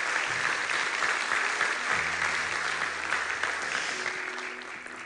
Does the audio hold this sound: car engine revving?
no